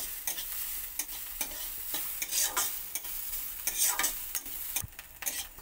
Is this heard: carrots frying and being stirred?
yes